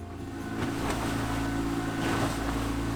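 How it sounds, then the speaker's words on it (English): A sailboat motoring under engine power on a windless day, its engine giving a steady low drone with water rushing along the hull, continuous and fairly loud. "there's no wind, so we're motoring"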